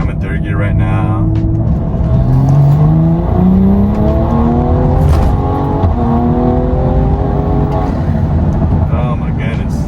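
A BMW M340i accelerating hard in third gear, its engine note climbing steadily in pitch for several seconds, loud and close from inside the cabin, with a voice talking over it.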